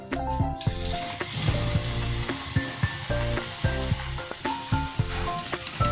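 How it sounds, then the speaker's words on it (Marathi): Maida and moong dal chakli fry in hot oil with a loud, steady, close sizzle. Regular soft clicks and knocks break through it, and a faint musical backing plays underneath. "अशा प्रकारे उचलून आपण चकली आता सर्व तळून घेऊया"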